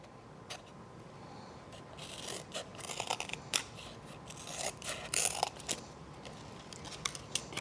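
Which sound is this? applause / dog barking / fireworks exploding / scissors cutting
scissors cutting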